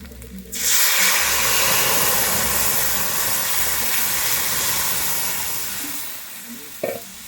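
Biuli lentils tipped into hot oil with fried panch phoron and ginger for a Bengali dal give a sudden, loud, steady sizzle that hisses on for several seconds and then eases slightly, with no talking.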